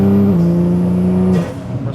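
A 650-horsepower Porsche Cayman GT2RS engine revs close and loud as the car accelerates, its pitch steady and then dropping and fading as the throttle eases near the end.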